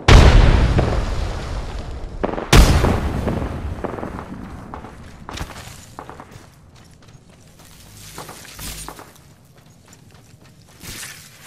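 A frag grenade blast in the video game Apex Legends: a loud, sharp explosion at the start, then a second heavy boom about two seconds later, each trailing into rumbling debris and scattered pops.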